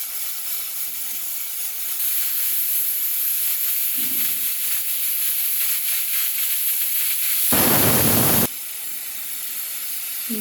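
Cooking gongura dal, a pressure cooker keeps up a continuous close steam hiss, then bursts into a louder, rougher whistle lasting about a second before settling back to hissing.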